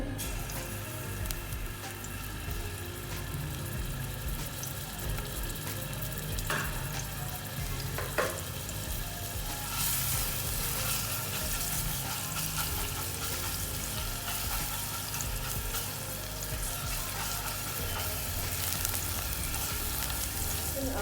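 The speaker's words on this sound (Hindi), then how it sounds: "ऑयल में ऐड करूँगी 1 टीस्पून चॉप किया हुआ लहसुन," Chopped garlic sizzles in hot oil, a continuous close crackling hiss that grows slightly louder partway through, with no one talking.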